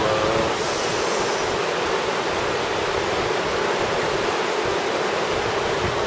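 A rushing mountain river beside a guesthouse in Jorsale, Nepal, on the Everest trekking route, roars as a loud, continuous broadband wash of water close by, with no voices.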